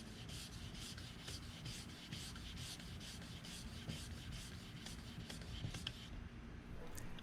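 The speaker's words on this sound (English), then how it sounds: "I then went up to the 1500 grit and sanded all over with that." A rudder mold plug is hand-sanded with fine 1500-grit sandpaper. Steady, close rasping strokes repeat in an even back-and-forth rhythm throughout, with no voices.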